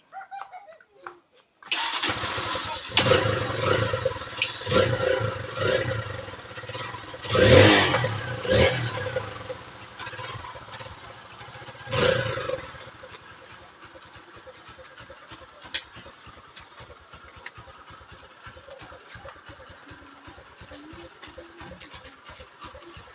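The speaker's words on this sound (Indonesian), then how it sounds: "Bapak mau tes motor." A Kawasaki KLX motorcycle engine being test-run after a broken reverse-thread bolt repair: it starts up, revs loudly in several bursts, then settles into a steady idle close by.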